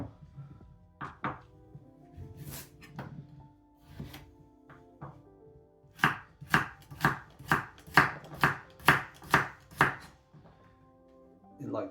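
A knife chops a carrot into quarter moons on a board, with a few scattered cuts first, then a steady run of about nine crisp, evenly spaced thunks, close and clear, for a Bulgarian kavarma.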